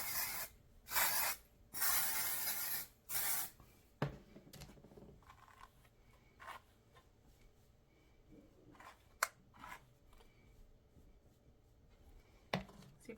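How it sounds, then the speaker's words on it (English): Dry shampoo is sprayed onto a synthetic wig in three close, hissing bursts. Quiet handling and rustling sounds follow. "let's put a little dry shampoo in her."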